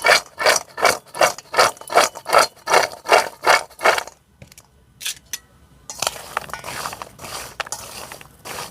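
Hot cashews being tossed with a masala spice coating in a bowl give a loud run of rhythmic rasping, rattling strokes, then a softer, irregular clatter of nuts and scraping.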